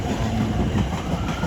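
A London Overground Class 710 electric train at London Euston on the West Coast Main Line gives a steady, close rumble with faint rail clatter for a moment, with no voices.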